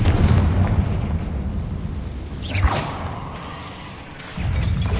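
In the Hogwarts Legacy video game, a Confringo spell fires with a rising whoosh and bursts into a booming explosion over a constant rumbling game background.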